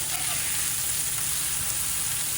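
Thin smashed burger patties sizzle on a hot camp griddle, a dense, even frying hiss held steady and fairly loud with no talk.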